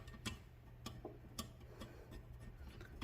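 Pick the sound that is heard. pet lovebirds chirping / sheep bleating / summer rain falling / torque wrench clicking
torque wrench clicking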